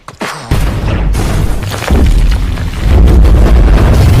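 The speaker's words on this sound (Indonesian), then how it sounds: "Joker benar-benar serius saat ingin meledakkan rumah sakit umum Gotham City" A film-scene explosion levels Gotham City's general hospital: a sharp blast followed by a sustained, heavy rumbling roar that swells louder in waves over several seconds, with no voices.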